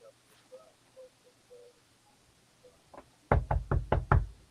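A run of five sharp knocks on a door sounds close and loud after a stretch of quiet background with a few faint murmurs.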